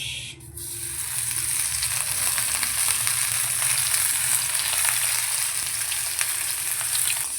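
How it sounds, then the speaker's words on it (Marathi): Mandeli fish, coated and laid into hot oil on a tawa, fry with a steady, dense sizzle that starts after a brief quiet moment and holds close and loud throughout, with no talking. "आता आपण मांदेली फ्राय करूया"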